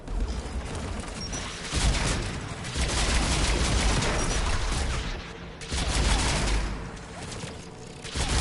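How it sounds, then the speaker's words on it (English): Sustained bursts of anti-aircraft gunfire in a PS4 video game, dense rapid booming volleys filling nearly the whole stretch with only brief dips, loud and close. "AA guns ahead of them."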